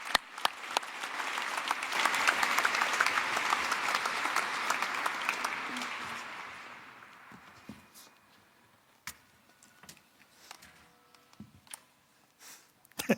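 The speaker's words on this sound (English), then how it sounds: "A warm applause." Warm audience applause at a technology and compassion event with the Dalai Lama rises into a dense roar of clapping, holds for several seconds, then fades out into scattered clicks and shuffling in a quiet room.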